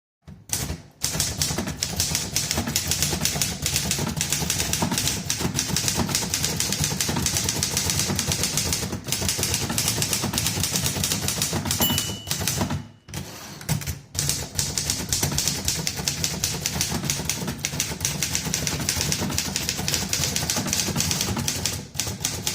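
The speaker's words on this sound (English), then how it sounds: "give you a sample of the typewriter in action" A Remington Mark II typewriter clacks through a long run of rapid key strikes, close and loud, with brief pauses and carriage sounds breaking up the steady rattle.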